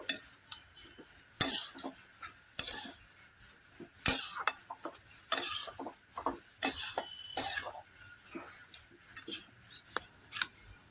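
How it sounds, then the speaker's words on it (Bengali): A spoon scrapes and clanks against a pan while stirring a rice flour snack mixture with garam masala and chopped coriander, giving irregular bursts of metallic scraping separated by quiet gaps. "নাড়াচাড়া করে মিশিয়ে নেব"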